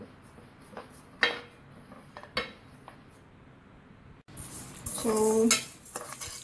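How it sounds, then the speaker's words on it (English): Green fennel seeds dry-roast in a pan while a spoon stirs them, giving a few crisp clinks followed by a louder, rattling scrape. One short word is spoken. "Now I'm adding my green sauf to this, and again we will do it for 2 minutes so that even this gets a little crispy."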